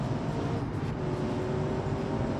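Car with a swapped LS7 V8 engine accelerating in a BeamNG driving simulation, a steady loud low engine roar that holds constant throughout.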